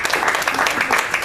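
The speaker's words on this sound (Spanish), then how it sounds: "denle un aplauso fuerte al Señor." A church congregation breaks into loud applause for the Lord during a sermon, a brief burst of close, dense clapping with a few voices underneath.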